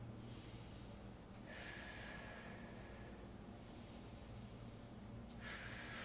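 Slow, deep breaths drawn in and released through the nose while holding a low lunge yoga pose, soft and close, with a faint steady hiss in the background.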